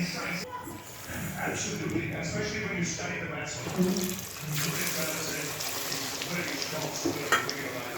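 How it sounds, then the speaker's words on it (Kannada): Chicken kebab fries in hot oil on a medium flame, a continuous crackling sizzle heard under a person talking nearby. "ಇದು ಅಷ್ಟೇ ಮೀಡಿಯಮ್ ಫ್ಲೇಮಲ್ಲೇ ಹುರ್ಕೊಳ್ಳೋಣ."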